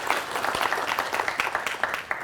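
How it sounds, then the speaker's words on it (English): Brief, lively clapping from an audience at a CSULB Constitution Day panel event, greeting the panelists with distinct hand claps in an uneven patter over a short stretch. "Can we give them a round of applause?"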